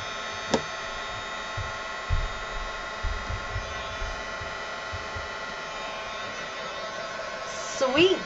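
A hair dryer blows steadily to dry green acrylic paint on a canvas for a teal poppy painting, a continuous close whirring hum running throughout with brief knocks and a voice near the end.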